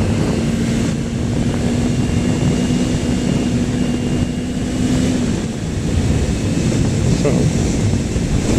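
Loud, steady wind roar buffets a rider on a light carbureted motorcycle, a dense broadband rush throughout with engine drone beneath, and a voice briefly speaks over it.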